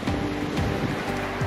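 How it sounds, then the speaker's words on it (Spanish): Ocean waves wash steadily onto a quiet beach, a continuous broad surf roar with soft wind noise, no talking. "pero miren qué hermosa playa. Yo amo esas playas, amo las olas"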